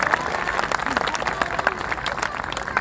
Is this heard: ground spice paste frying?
no